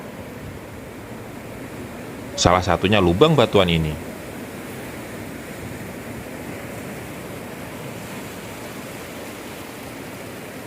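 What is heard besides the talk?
ocean waves and wind on rocks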